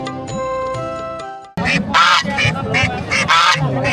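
Ducks and chickens at a busy village poultry market in Omarpur, Bogura, Bangladesh, give loud close honking and quacking calls in repeated bursts after a brief stretch of steady background tone.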